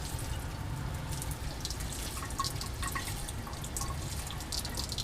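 Condenser cooling water runs through a laboratory dehydration apparatus held at about 140 to 150 degrees, producing a steady trickle with irregular bright drips and splashes over a constant low hum.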